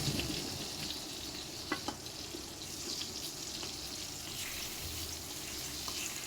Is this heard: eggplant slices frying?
yes